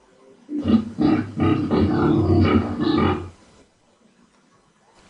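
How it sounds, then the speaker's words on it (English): Pig grunting in a rough, throaty run of several loud grunts over about three seconds, followed by quiet. "Pig."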